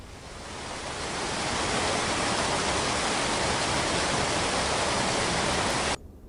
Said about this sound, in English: Okay, so this is sound from a waterfall,